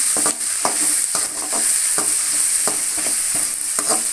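Mutton gravy frying in a pan, a loud continuous high sizzle with regular scraping strokes of a spoon stirring through it, roughly two per second, with no voices.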